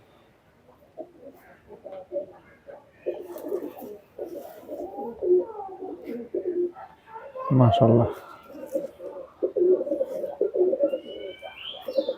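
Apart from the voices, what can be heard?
Chinese teddy pigeons cooing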